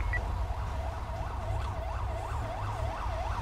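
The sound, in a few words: ambulance siren in roleplay video game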